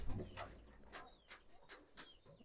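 Pigeons, including Shiraji birds, at a pigeon farm give a few faint, soft coos and calls in short bursts against a quiet background.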